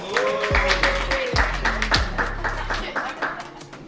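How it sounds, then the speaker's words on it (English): A round of applause rises for the CFO at a youth business program event, moderate clapping from a small group mixed with a low musical bed and some talk. "Give the CFO a round of applause"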